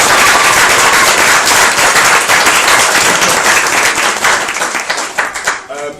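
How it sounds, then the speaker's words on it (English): Wedding guests give a loud, dense round of applause that carries steadily and then thins and fades near the end. "So they all need a round of applause."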